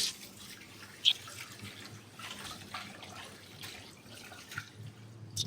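Water swishes and splashes faintly as rice is washed inside a pressure cooker, with soft irregular sloshing and a couple of small clinks close by.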